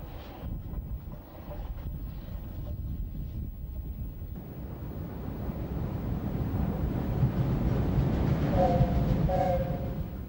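WD 2-8-0 steam locomotive number 2253 running, a steady rumbling rail drone that swells toward the end, with wind buffeting the microphone and faint tonal squeals near the close.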